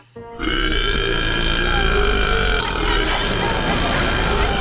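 A long, loud, exaggerated burp from the comedy film Fred 3, one continuous rumbling belch that starts abruptly and holds for several seconds, close and dominant.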